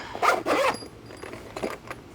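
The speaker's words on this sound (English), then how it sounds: "Zips up nice and neat," A zipper is pulled closed on a foam-lined tool case that holds a Monster Valve Tap2 kit, giving two quick, close ripping strokes followed by softer fabric handling and faint rustles.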